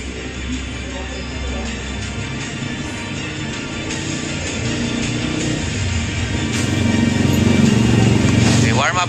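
Pit bike motorcycles on a race warm-up lap, a continuous engine drone building slightly louder over the clip, under a commentator talking throughout.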